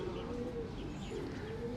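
A Batera pigeon coos softly in a low, rolling rhythm, repeating a couple of times against steady background noise.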